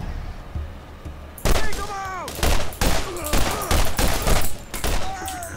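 Pistol gunfire in the Borderlands video game: a string of sharp, loud shots in quick irregular succession after a quiet start, with a voice briefly audible between blasts.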